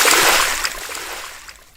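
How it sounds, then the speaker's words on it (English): Bathwater splashing and sloshing in a tub during children's bath time, a busy wet splatter that starts loud and gradually thins out over a couple of seconds. "splashing Daddy Pig again"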